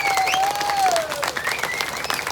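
Guests at a Tulu family celebration clap together in a brisk, close burst, with a whistling or tonal sound gliding over the applause.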